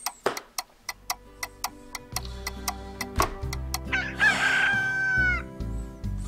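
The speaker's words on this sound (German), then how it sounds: "Wenigstens ist hier ein Gockel mit dabei." A rooster crows in the video game Slime Rancher, one long rising call over a steady ticking rhythm and low game music, fairly close and clear.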